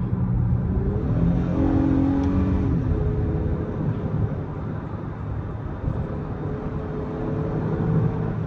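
A car engine revs steadily and loudly through paddle-shifted gears, pitch climbing and dropping as gears change, with a continuous low drone throughout and no voices. Acura MDX.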